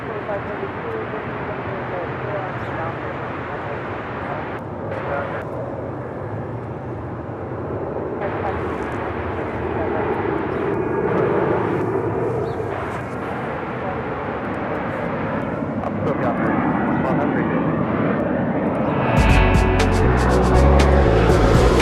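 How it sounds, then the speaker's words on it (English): American Airlines Boeing 777-200ER beginning to taxi at LAX, a steady jet engine roar that slowly swells, with someone narrating over it. "American Airlines Flight 809 heading to Charlotte this morning in this 777-200ER. Starting her taxi, will make her way down to 25 right for a departure."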